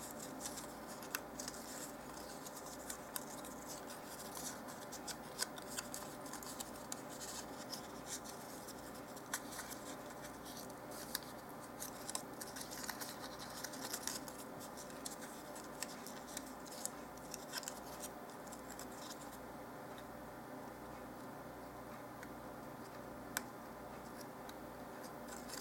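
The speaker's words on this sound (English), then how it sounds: "I'm going to pre-fold on my fold lines." Paper for dollhouse miniature picnic accessories is pre-folded along its fold lines, producing faint, close crinkles, soft creases and scattered small ticks over a quiet background, with no talking.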